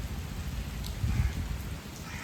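Steady monsoon rain falls nearby, heard from under a bridge, a continuous dense patter with a low rumble swelling briefly midway.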